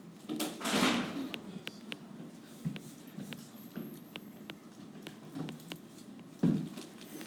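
A classroom door is pushed shut amid a backdrop of faint scattered clicks, shuffles and knocks from the room, with several sharp thuds spread over a few seconds.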